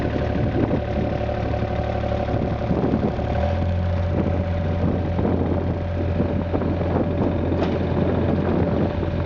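A John Deere 1445 mower with a blower attachment running at low throttle, a steady, fairly loud mid-pitched engine hum with even drone and some wind buffeting, no speech.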